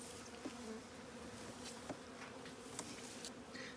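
Honey bees hum around an opened beehive at an apiary, a faint steady buzzing swarm with occasional brief louder passes of single bees close by.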